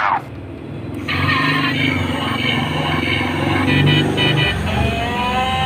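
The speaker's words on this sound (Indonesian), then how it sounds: "Wah, ada mainan bajai. Ayo kita ambil dan kita nyalakan teman-teman." A toy Bajaj auto rickshaw switches on after a brief click, then runs with a steady, close electronic engine drone and buzzing tones, rising slightly toward the end.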